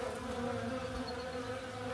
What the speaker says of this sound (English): Hopefully you can see all them bees flying around up there